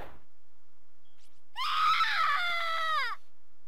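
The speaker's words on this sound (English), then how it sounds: "Jeez, that scream is really loud." A long, loud, high-pitched scream from the horror game Corpse Party rings out alone for about a second and a half, wavering and then falling in pitch before it cuts off.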